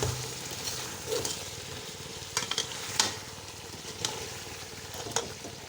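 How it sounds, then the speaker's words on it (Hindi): Goat head curry masala sizzles and fries in oil in a pot, a steady crackling hiss broken by a few sharp stirring scrapes at close range, with no voices. "ये देखो ऑयल छोड़ दिया।"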